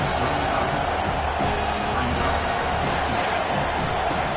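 Home football crowd roaring in a stadium, a dense, steady wash of massed voices and cheering that holds loud and unbroken throughout with no pauses.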